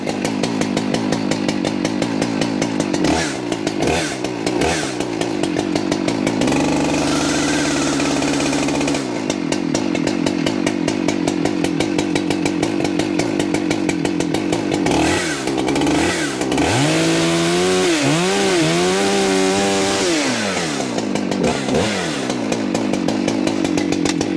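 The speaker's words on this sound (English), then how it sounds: "The bigger the saw, the longer you want to warm them up." A chainsaw engine runs continuously close by, buzzing at idle and then revving up repeatedly with rising and falling whines.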